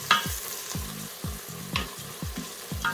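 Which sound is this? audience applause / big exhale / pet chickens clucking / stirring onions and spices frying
stirring onions and spices frying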